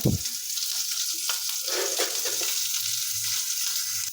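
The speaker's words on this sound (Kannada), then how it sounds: "ಇದಕ್ಕೊಂದು ಸ್ವಲ್ಪ ಎಣ್ಣೆ ಹಾಕ್ಕೊಡಿ ನೋಡಿರಿ. ಇದು ಚಲೋ ಹುರ್ಕೋಬೇಕು" Okra and green chillies stir-fry in oil in a pan for a North Karnataka dish, a steady close sizzle that opens with a brief scrape of stirring and runs on evenly.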